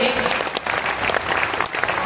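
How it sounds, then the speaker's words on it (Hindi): Loud, dense audience applause in response to a call to clap harder, continuous clapping filling the whole stretch with crowd noise beneath. "जरा जोरदार तालियां बजाइए"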